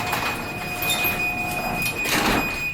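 A garage door closes with a steady rolling, rumbling slide and mechanical rattle, close and moderately loud, with a faint high tone running beneath and a brief brighter scrape near the end.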